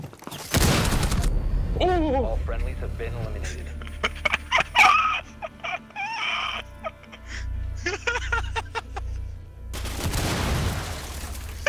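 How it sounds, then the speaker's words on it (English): A breach charge blast and bursts of gunfire ring out in the Rainbow Six Siege video game, loud opening and closing explosions framing rapid shots, with voices reacting and groaning in between. "that was a breach charge!"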